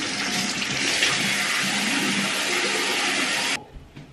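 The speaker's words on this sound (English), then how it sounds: "we're gonna wash my face" Water runs steadily from a bathroom tap while someone washes their face, a loud, continuous close-up rush that stops abruptly near the end, leaving a few faint splashes.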